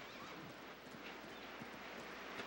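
Horse hooves clip-clopping at a steady walking pace, faint and somewhat distant under a constant rushing background noise, with no talking.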